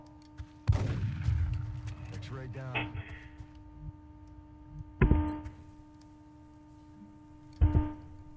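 Shotgun blasts in a video game, three loud separate booms spaced a few seconds apart, each with a short decaying tail, over faint background hum.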